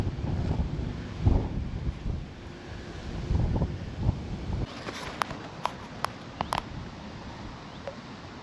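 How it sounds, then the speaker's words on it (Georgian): Strong wind gusting outdoors during a fishing trip, buffeting the microphone in low rumbling surges, followed by a quieter stretch broken by several sharp clicks and taps. "საშინელი ქარი ამოვარდა."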